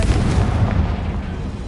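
A Confringo blasting spell detonates in the video game Hogwarts Legacy, producing a loud, continuous rumbling explosion with dense low booms that last the whole moment, with no voices.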